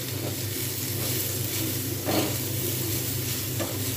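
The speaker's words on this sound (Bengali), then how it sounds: "আলুগুলো সুন্দরভাবে ভাজা হয়েছে, ছোলাগুলো সুন্দরভাবে ভাজা হয়েছে।" Potatoes and chickpeas frying in a little oil, a steady close hiss and sizzle with faint stirring, unbroken throughout.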